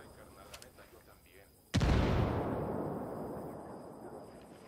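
Frag grenade detonating in Ghost Recon Wildlands: a single loud close blast with a long rumbling tail that fades over several seconds, preceded by faint game noise.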